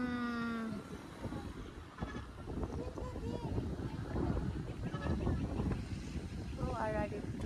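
Wind buffets the microphone in a steady, rumbling roar on the Calatrava skywalk as people talk over it, with a few higher tonal calls at the start and end.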